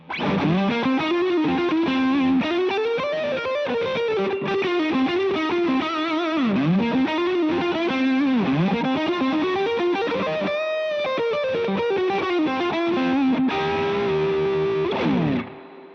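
Distorted electric guitar played through an amp in drive setting with chorus-like effects, sustained bending notes ringing loudly and continuously, no talking.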